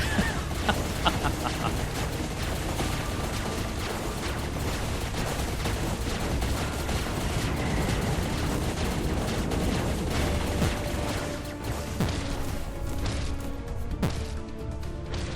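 Dense, sustained barrage of enemy gunfire and impacts in the hardmode roguelike game Sephiria, loud rapid shots and crashes layered continuously for the whole stretch, easing slightly near the end.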